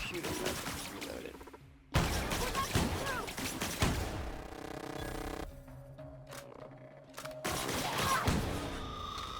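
Gunfire from The Outer Worlds, bursts of shots and impacts in a game firefight with abrupt cuts between loud and quieter stretches.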